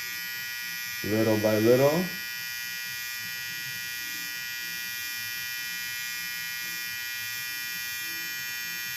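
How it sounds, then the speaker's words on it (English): Electric hair trimmers buzz steadily and close up while cutting a mid taper fade, a continuous drone running the whole way through, with a brief stretch of speech early on. "we're really just gonna take the trimmers and just kind of work with the corners of the blades"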